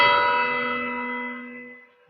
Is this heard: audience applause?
no